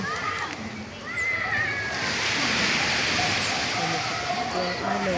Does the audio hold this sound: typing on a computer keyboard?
no